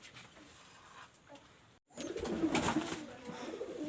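Domestic pigeons coo softly at close range, quiet at first and then louder after a brief gap, with a few overlapping calls.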